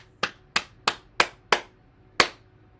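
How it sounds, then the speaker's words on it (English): Six sharp hand claps, five in a steady rhythm and a final one after a short pause, close and clear over a quiet background during a morning bouncing and gratitude exercise session. "Clap our hands."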